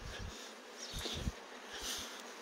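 Bees buzz steadily and close around a beekeeper tending his hives, a continuous insect drone with soft thumps and no talk.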